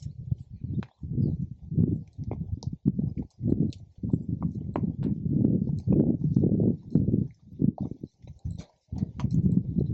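A ridden horse walks with a steady, close clip-clop of hooves in an even rhythm, with faint bird chirps in the background.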